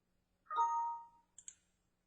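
Two quick, light computer mouse clicks come just after a short soft chime, and the rest is quiet.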